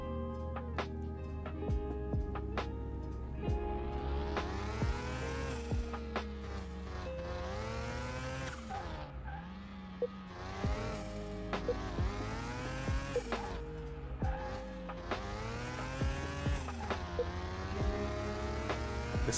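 A video game car on a test track drives with a steady whining engine, shifting through gears repeatedly as the pitch climbs and drops in regular cycles, clear and continuous with no talking.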